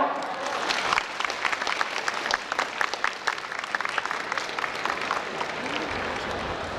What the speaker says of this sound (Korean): 여러분 다시 한번 큰 박수로 총장님 모셔봅시다